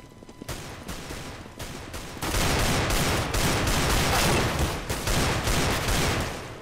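Dual Beretta pistols firing in Counter-Strike: Global Offensive, a few separate shots early, then a dense, loud, sustained burst of rapid gunfire that lasts several seconds with no talking.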